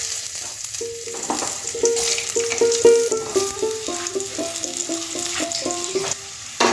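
Potatoes drop into hot oil already seasoned with whole white cumin and a bay leaf for a restaurant-style egg curry, and a steady loud sizzle and crackle of frying follows, close up with no talk.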